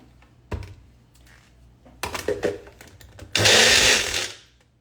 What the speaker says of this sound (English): we are just gonna blend it up and microwave it